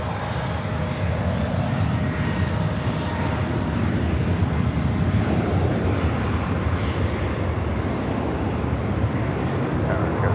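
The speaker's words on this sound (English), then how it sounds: "This takeoff is United 2603, taking off to San Francisco on the MAX 9" United Boeing 737 MAX 9 airliner taking off at Los Angeles airport, a steady broad jet engine roar heard from a distance, continuous and loud throughout with wind buffeting the microphone.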